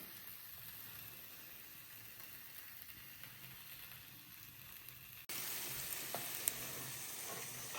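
Raclette cheese melting and sizzling in a pan, to be poured over potatoes, a steady soft frying crackle that grows louder and closer partway through.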